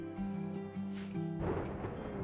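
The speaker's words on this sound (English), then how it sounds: "Got a flash storm that will light some things on fire." A thunderstorm in the RimWorld video game brings deep rumbling thunder with rain, loud and continuous, swelling into a brighter crackling burst partway through.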